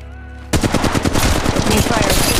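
Rapid automatic gunfire in Apex Legends Mobile erupts after a brief quiet start, loud and dense with fast repeating shots continuing to the end.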